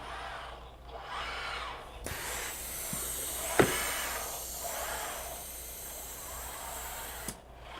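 Vacuum gripper on a Rethink Robotics Sawyer robot in a fab lab, a steady hiss with a sharp click and a brief pulse partway through, close and fairly loud against a constant machine hum.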